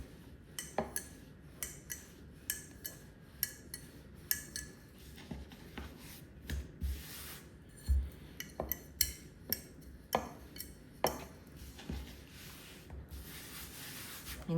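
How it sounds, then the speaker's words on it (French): Rolling pin pressing out cheese-filled naan dough on a floured surface, giving repeated soft rubbing strokes with sharp knocks and taps at an irregular rhythm, close and moderately quiet. "à l'aide d'un rouleau à pâtisserie, on étale le plus finement possible"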